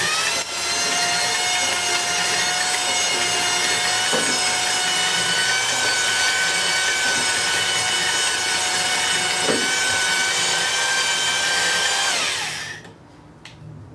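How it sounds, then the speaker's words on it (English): A steady high-pitched whirring grind of a Sunnen portable rigid-body hone running continuously with oil in a Quincy compressor cylinder for several seconds, then winding down and stopping near the end. "You can start to feel and hear how uh, the hone's working."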